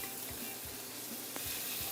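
Smoked pork belly sears in a hot pan with a steady, dense sizzle and occasional soft knocks, close up and alone without voices.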